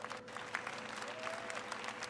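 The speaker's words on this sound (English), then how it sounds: "Let's give them all a round of applause." An audience at the EA conference at E3 breaks into applause, a soft steady spread of clapping from a large crowd heard from some distance for a couple of seconds.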